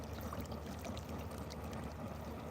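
A passing boat with a big Evinrude outboard motor and a Bimini top speeds over the water, heard as a steady broadband wash of engine drone and rushing water, faint and constant throughout.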